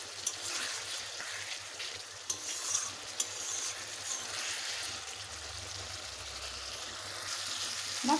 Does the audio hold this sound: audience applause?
no